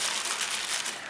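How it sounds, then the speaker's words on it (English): Deli paper being crumpled by hand close up, a continuous bright crinkling and crackling that stays loud for the entire moment. "Crumple that paper up"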